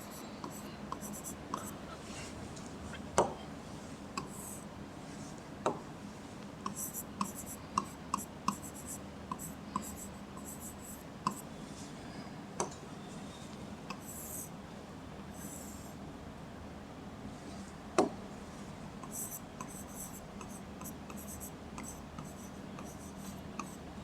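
Someone writes on a digital slide during a chemistry lecture on galvanic cells, making soft, continuous scratchy strokes with scattered taps over a low steady hum, and a voice is faintly audible at times.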